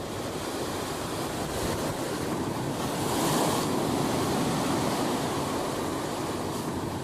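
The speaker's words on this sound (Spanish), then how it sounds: "entre resbaladizas rocas batidas sin descanso por las olas y el viento" Atlantic surf pounds slippery rocks along the Galician coast, a loud continuous wash of breaking waves with wind rushing over the microphone and a swell in intensity midway.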